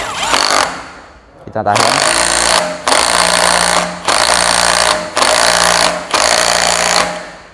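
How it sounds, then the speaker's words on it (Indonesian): An impact wrench tightens a nut on a car's upper suspension support in a garage, firing loud repeated rattling bursts close by with short pauses between, while someone speaks briefly. "Setelah dipasang, kita kencangkan saja dengan impact."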